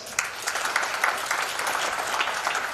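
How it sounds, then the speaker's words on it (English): A big audience in an auditorium claps together at a talk on India's future in Ludhiana, brisk overlapping applause with a few sharper claps standing out, steady and fairly loud throughout. "let's all clap for ourselves"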